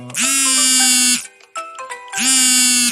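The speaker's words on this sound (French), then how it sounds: "Je suis en train de filmer et puis le téléphone qui sonne." A smartphone rings loudly and close by, two long electronic ringtone bursts separated by a short gap, during a sensor check of an Oukitel U15 Pro phone.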